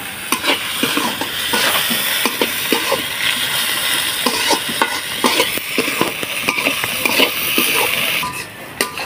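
Onions frying in a pan with salt while being stirred, browning toward red for a kakila fish curry, giving a close sizzle broken by repeated scraping stirs at an irregular rhythm, with no voices.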